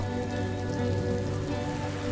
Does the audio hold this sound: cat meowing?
no